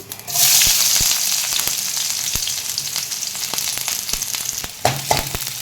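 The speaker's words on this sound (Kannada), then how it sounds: "ಈಗ ಆನಿಯನ್ ಹಾಕ್ತೀನಿ" Chopped onion hits hot oil with cumin seeds in a pan, bursting into a loud, steady sizzle that carries on with a few sharp clinks of a utensil against the pan; no voices.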